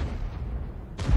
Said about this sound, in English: Now the top gun on this Arty is 21 centimeter Mauser